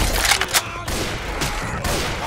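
Rapid bursts of gunfire in the video game Left 4 Dead 2, several loud close volleys in quick succession over about two seconds.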